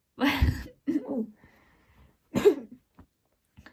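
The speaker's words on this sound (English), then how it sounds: "Clearing my throat like I wanted to earlier" Three separate bursts of throat clearing or harsh coughing, close and fairly loud, the first two back to back and a third after a short pause, followed by a couple of faint clicks.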